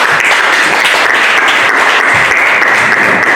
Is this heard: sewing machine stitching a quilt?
no